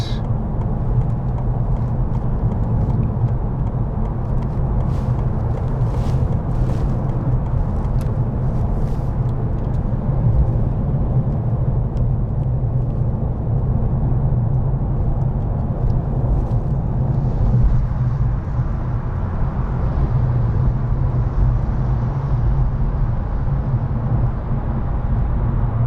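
Trucks pass by on a road as a steady, loud engine rumble holds for about half a minute, with a few brief rattles and a slight change in tone toward the end.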